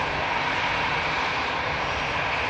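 An aircraft departing from a runway at Manchester Airport, heard as a steady, loud engine roar with broad rushing noise throughout.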